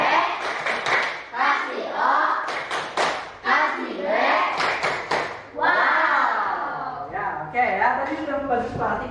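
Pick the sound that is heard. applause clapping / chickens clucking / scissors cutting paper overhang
applause clapping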